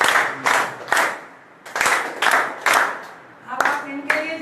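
Indoor audience at a talk in a Special Spiritual Zone gives several bursts of clapping for speakers, loud rhythmic rounds separated by brief pauses, with a voice speaking between them.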